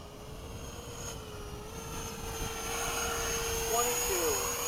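An F-16 fighter jet makes a radar speed pass at Bayside, its steady engine roar holding throughout and swelling slightly toward the end, with talk and crowd noise mixed underneath.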